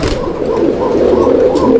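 Pigeons coo steadily and close by, soft throaty rolling calls overlapping one another without pause.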